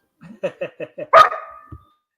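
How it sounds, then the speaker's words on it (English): A small dog gives a quick run of four or five sharp, close barks followed by a louder yelping bark, then falls quiet. "your little dog decided to say hi"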